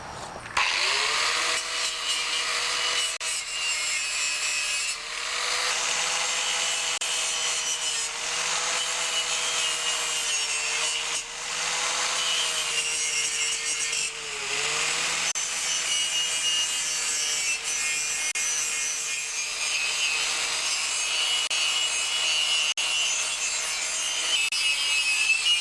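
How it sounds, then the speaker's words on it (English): Wire brush spun by a drill grinding rust and paint off John Deere 316 tractor parts, a continuous loud whirring scrape with a steady motor hum that dips slightly in pitch under load, no talking. "I'll be grinding off the rust and the paint with my drill and my angle grinder with wire brushes"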